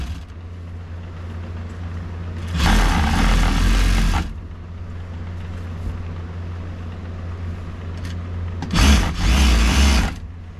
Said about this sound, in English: I'm sewing over the stitching again at the end.